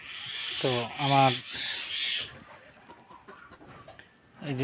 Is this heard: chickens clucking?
yes